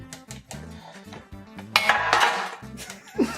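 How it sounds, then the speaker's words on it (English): A spatula scraping and tapping as it spreads butter around a baking pan for bread, giving close, irregular metallic clinks and smears with a louder scraping stretch midway. "with the spatula, you're just going to sauce the pan there"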